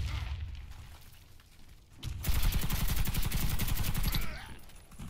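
Rapid automatic gunfire in the shooter video game Warface, first faint and distant, then a loud, sustained burst of fast, evenly spaced shots for about two seconds that stops abruptly.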